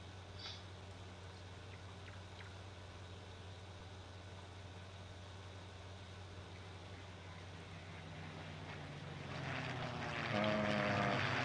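Spitfire planes in a farming video game approach as a faint propeller engine drone that swells to a louder rumble in the last couple of seconds over a low steady background hum.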